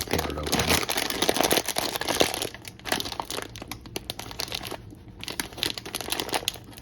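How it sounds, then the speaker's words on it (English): A Transformers Chocolate Crunch cereal bag is torn open by hand, with loud crinkling and ripping plastic in bursts that ease into softer rustling. "It says you should like cut here, but I'm just gonna tear it open."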